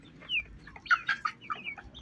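Chickens and roosters in a free-range coop cluck and squawk in short, fairly quiet bursts, several birds calling one after another close by.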